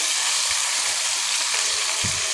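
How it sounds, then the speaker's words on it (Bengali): Steady, bright sizzle of ginger garlic paste frying in a pan, continuous and close, with faint soft stirring bumps underneath. "আদা রসুনটা আমি একটু ভালোভাবে ভেজে নিলাম"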